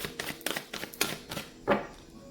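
A deck of tarot cards is shuffled by hand in quick, uneven bursts of riffling and slapping, close and fairly loud, with a few short pauses between the bursts and no talking.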